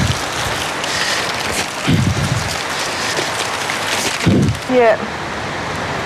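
Heavy rain pours down steadily in a constant hiss, with wind buffeting the microphone and people talking briefly over the downpour.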